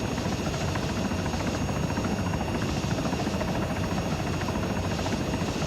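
A helicopter in the video game ArmA 3 runs with a steady, loud rotor and engine drone and a constant buzzing whine, continuous with no breaks and no voices.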